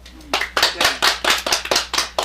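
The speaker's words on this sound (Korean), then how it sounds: "박수." Hands clapping in a Korean Buddhist lecture hall as a monk finishes a story, a loose group of sharp claps in an uneven rhythm, close and lively, with no talk over it.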